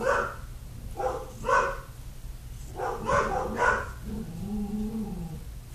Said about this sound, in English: Yes, I know my dogs are barking.